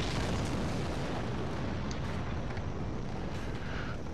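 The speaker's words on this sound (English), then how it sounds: "How do I get to the guy that's throwing all the fire at me?" Fire attacks from an enemy in the Dark Souls video game, a sustained roaring rush of flame and blasts that fills the whole clip at moderate level without speech.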